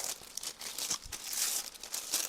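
Close, crisp crinkling of plastic packaging being handled and opened while unboxing a Teclast T60 Plus tablet, in irregular rustling bursts.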